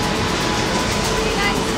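Tamralipta Express train running between Digha and Kolkata: loud, steady rumble and rushing roar heard from on board, continuous through the short stretch.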